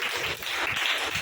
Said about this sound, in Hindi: ताली बजाओ ना अबीमेलेक के लिए